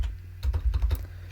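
Quick keystrokes on a computer keyboard, a short run of about half a dozen crisp taps at close range over a low steady hum.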